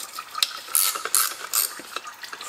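A ratchet clicks in short, uneven bursts up close while loosening the transmission oil pan bolts on a Mercedes 7G-Tronic PLUS gearbox, moderately loud with no voices.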